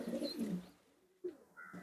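Racing pigeons in a loft give soft, low cooing calls, steady at first and then fading, with a few brief rustles and a higher cooing burst near the end. The birds sound close and fairly quiet.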